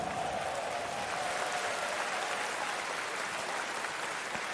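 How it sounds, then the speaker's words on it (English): A crowd at The International 2018 Dota 2 tournament applauds a team, a continuous distant roar of clapping and cheering that holds steady and fairly soft under a hall-like ambience. "Round of applause for Fnatic."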